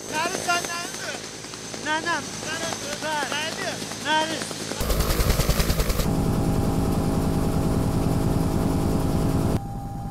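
Rescue helicopter of an air ambulance service with its rotor blades running, a loud steady rotor roar and rhythmic chop taking over after speech, close by in cold weather.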